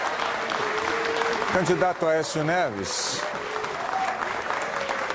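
An audience applauds at the 2014 Brazilian presidential debate, a sustained clapping wash heard under a moderator speaking into a microphone.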